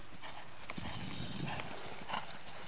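Horse hooves clip-clop steadily on an arena surface during jump training, several muffled footfalls at moderate distance with no voices.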